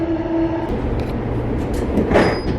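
A Perth suburban train carriage pulls into Elizabeth Quay station, with a steady loud rumble, a fading tonal whine and a hiss of brakes or doors near the end, heard from inside the carriage.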